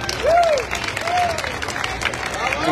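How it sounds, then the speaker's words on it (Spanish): Applause and crowd noise from an audience at a mariachi school event, a steady wash of clapping with a brief voice rising over it. "Un fuerte aplauso para ella."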